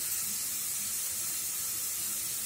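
Grated beetroot sautés in a pan with paste for a beetroot and carrot cutlet, a constant soft hiss of steam and sizzle, even and close throughout, with no speech.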